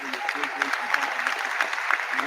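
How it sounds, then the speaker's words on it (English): A football crowd at Gateshead applauding the mascots as they run off the pitch, a spread-out stadium round of clapping heard at a distance, with a commentator's voice talking over it. "lovely round of applause for the mascots there as they run off the pitch"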